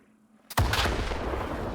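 In S.T.A.L.K.E.R. 2, after a brief quiet moment, a single heavy RPG-7U blast erupts and rolls on as a loud, booming roar that fades only slightly.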